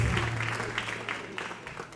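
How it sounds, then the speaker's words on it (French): An audience applauds a Christian mission band from Lomé at a praise concert, steady mid-distance clapping from a sizable crowd that continues throughout with no break. "Applaudissons encore le groupe de la mission chrétienne du Lomé"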